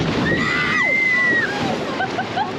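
Water sloshes and splashes into a ride boat at a theme park as it fills, a steady wash of churning water running under excited shouting and talk.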